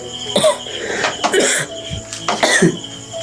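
A person with a lingering cough coughs several times, harsh rough bursts with throat-clearing sounds between them, close and fairly loud with no talk.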